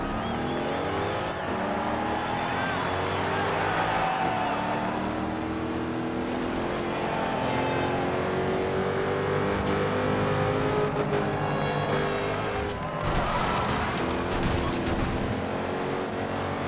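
Cars racing in Forza Horizon 2 on a mixed-surface point-to-point trail race, loud continuous engine roar with rising and falling revs and gear shifts throughout, no talking.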